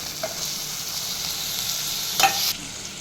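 Tomatoes sizzle steadily in a pan with ginger garlic paste and green chillies, a continuous frying hiss with a brief louder burst of stirring near the end, no talk.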